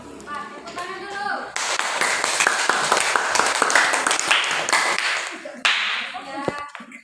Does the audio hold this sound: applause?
yes